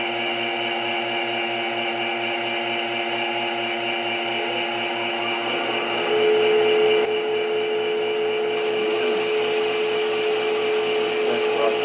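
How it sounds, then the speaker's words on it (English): A vacuum pump runs steadily on a wood lathe chuck holding a wet bark-rim bowl, a constant mechanical whine and hum with tonal lines that shift slightly and grow a bit louder partway through, with no talking. "See if I can get the vacuum pulled on this."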